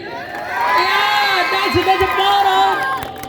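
A crowd at an inauguration event in Manjummel, Ernakulam roars and cheers for Thoppi, a loud, sustained wash of shouting and whooping voices swelling for about three seconds before trailing off.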